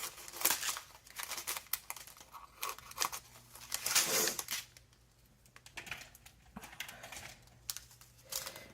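Scissors snip through a plastic bag of diamond painting gems, a few close crinkly cuts and rustles with brief pauses between them.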